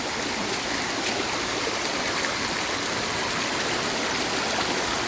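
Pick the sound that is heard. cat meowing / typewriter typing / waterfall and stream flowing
waterfall and stream flowing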